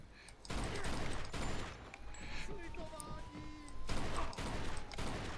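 Bursts of rapid gunfire crackle against a steady game soundscape, with occasional electronic tones between volleys, in Mafia 2.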